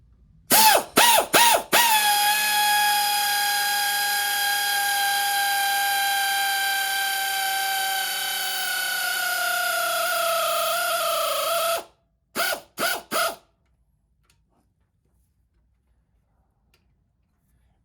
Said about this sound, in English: We will put the air tool on the tighten mode.